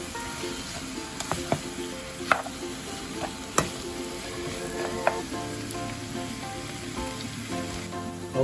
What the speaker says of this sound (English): I'm just going to allow the onions to cook for a while until it's nice and soft